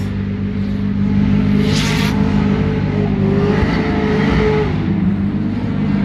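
A Corvette drift car's engine revs hard at a drift event in Sainte-Croix, a steady loud roar with rising and falling pitch that continues for the whole stretch, with no voices.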